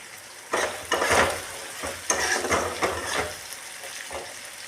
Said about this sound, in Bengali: টমেটোটা এর সঙ্গে আস্তে আস্তে নরম হতে থাকবে আর পেঁয়াজটাও হালকা ভাজা হয়ে যাবে